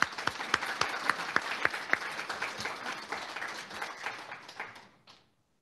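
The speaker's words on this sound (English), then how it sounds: "let's give them a round of applause" Meeting audience gives a round of applause, a dense burst of hand claps with a few sharp standout claps, steady for about five seconds and then fading quickly to silence.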